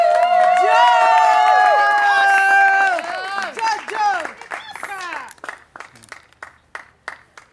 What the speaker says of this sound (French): on les applaudit pour les encourager